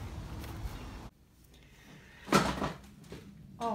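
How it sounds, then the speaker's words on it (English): A cat knocks over a stack of boxes indoors, making a sudden clattering tumble of hollow thumps and scrapes, with quieter shuffling before and after. "my cat just knocked over all my boxes"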